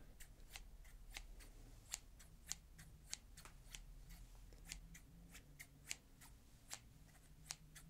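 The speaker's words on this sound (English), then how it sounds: "these are a smaller pair of scissors" Small pair of scissors snipping close up in a quiet ASMR setting, a steady run of crisp, regular snips, roughly two per second, soft and intimate with no talking.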